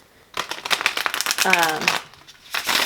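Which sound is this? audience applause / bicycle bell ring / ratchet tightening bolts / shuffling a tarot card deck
shuffling a tarot card deck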